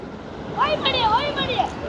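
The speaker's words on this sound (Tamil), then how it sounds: "இன்றைக்கி காற்று சரியான உரத்துட்ருக்கு." Strong summer wind blows at the seashore as a steady, loud broadband rush, while someone speaks over it close to the microphone.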